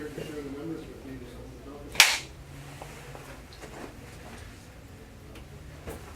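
One sharp hand clap to sync sound during an office interview shoot, crisp and close, with low talk murmuring before and after it.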